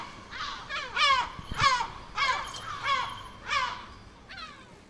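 Harsh screeching calls repeat in a steady series of about seven loud cries, from birds alarmed as a falconer's falcon hunts the gulls in Schiedam, with no talk.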